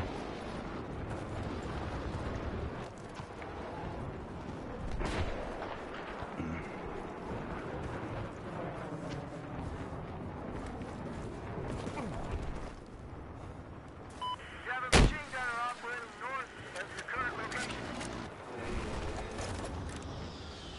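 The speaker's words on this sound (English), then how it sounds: "We just need to shoot it the rest of the way." Battlefield 4 gameplay as players shoot at a building: a dense, continuous roar of gunfire and explosive blasts throughout, with one sharp loud crack standing out near the three-quarter mark and chirpy electronic effects after it.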